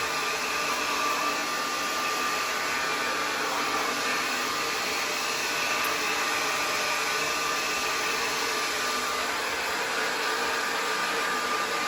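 A hair dryer on its highest power and heat blows close into a dog's coat during home grooming, a loud, steady, unbroken rushing roar throughout.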